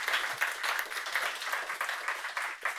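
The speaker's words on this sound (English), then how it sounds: "Clap to them as well." Audience applause at the Ubuntu Summit 26.04 closing remarks: steady, dense clapping from a crowd filling the whole stretch at an even, moderate level, with no talk.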